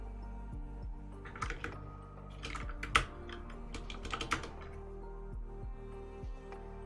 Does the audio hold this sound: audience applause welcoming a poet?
no